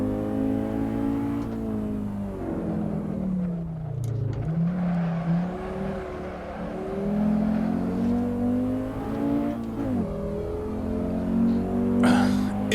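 A 1994 Audi Sport Quattro rally car drives hard under load, its engine note rising and falling through long gears with steady, loud in-car drone and a brief dip around the middle.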